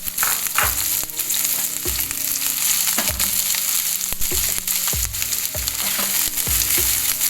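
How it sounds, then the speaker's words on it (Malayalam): Shallots frying in hot coconut oil make a loud, steady sizzle close up, broken by repeated sharp scrapes and knocks of a spoon against the pan roughly every second, with no voices. "അതിലോട്ട് നമുക്ക് ചെറുള്ളി ഇട്ട് കൊടുക്കാം ആദ്യം."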